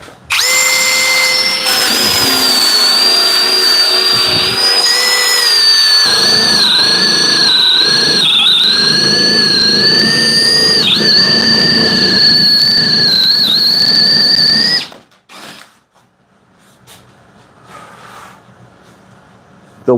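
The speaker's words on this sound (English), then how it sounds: "We are still in drill mode, and we still have the cord on this." A corded drill in high-speed drill mode bores into wood, a loud sustained whining motor with shifting pitch for about fifteen seconds before cutting off abruptly, followed by quieter handling sounds.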